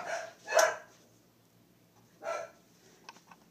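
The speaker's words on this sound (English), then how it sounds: "Oh, my dogs are going crazy." Dogs at home bark loudly nearby, one sharp bark followed by a second after a short pause, then a few faint yips, with no talking.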